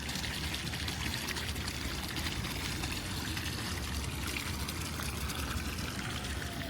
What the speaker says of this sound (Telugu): ఇక్కడ ముందు ఒక దీపం లాగా మంచి వాటర్ అది పెట్టారు చూడండి.